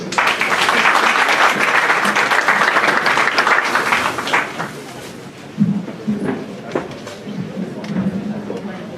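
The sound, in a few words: applause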